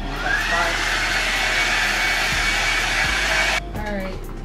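A hair dryer blows close up with a steady high whooshing roar while drying hair, cutting off abruptly near the end, followed by a few faint handling knocks.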